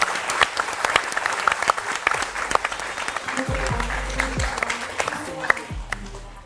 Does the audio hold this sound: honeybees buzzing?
no